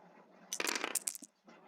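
Dice tumbling for a board game, a burst of hard clicking and clattering rolls lasting under a second, close and fairly loud, followed by a faint short rattle.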